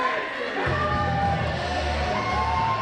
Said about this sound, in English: this great ASW crowd, man, I'm telling you, they letting Fodder have it here tonight